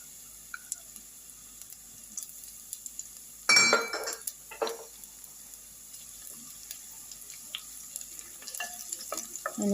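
Chopped garlic, ten to fifteen cloves, dropped into hot oil for tempering before adding mustard greens, giving a sudden loud sizzle that fades into a quieter crackle with occasional stirring clinks.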